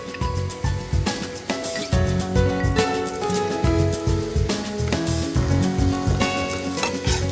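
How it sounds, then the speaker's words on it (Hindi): Ginger and coriander frying in a pan with onions, a continuous sizzle under repeated scraping stirs and clinks of a utensil against the pan, close and fairly loud, with music playing alongside. "हल्का सा चलाएंगे इसे और अदरक को हल्का फ्राई करेंगे"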